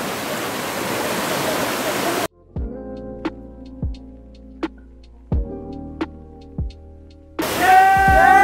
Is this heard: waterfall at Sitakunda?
yes